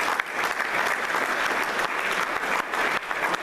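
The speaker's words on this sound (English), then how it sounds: "help me thank them by giving them a huge round of applause." An audience at a church systems presentation event claps in a full, sustained round of applause, dense and even throughout, with no speech over it.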